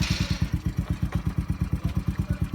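A Yamaha Raptor 90 quad's engine, started cold on the choke, chugs close by in a steady, rapid train of low thumping pulses with a faint rattling clatter on top.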